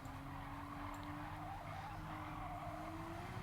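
Gran Turismo 7 race car, a Gr. 3 Porsche 911 RSR at Monza, with a steady loud engine drone holding a sustained pitch that rises gradually, with tire squeal and skidding running throughout and no talk.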